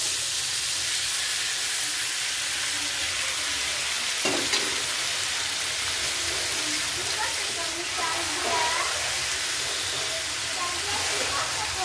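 Spiced marinated meat added to a pan of browned onions, frying with a steady loud sizzle and hiss throughout, with a brief clatter near the middle and faint talking underneath.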